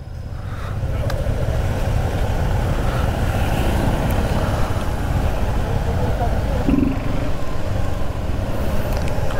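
Several Suzuki V-Strom SX motorcycles rumble together in a low, continuous drone as a group sets off on a community ride in Delhi, with heavy wind buffeting the microphone throughout.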